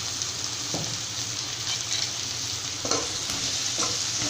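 Brinjal pieces sizzle steadily in hot oil as turmeric powder is stirred through them, with a few soft scraping strokes of the spoon against the pan breaking through the constant frying hiss.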